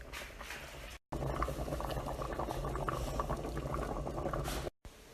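Thickening bean sauce bubbles and plops in a pot as it is stirred, a dense, continuous simmer that is close and fairly loud. Brief silent gaps break it near the start and the end.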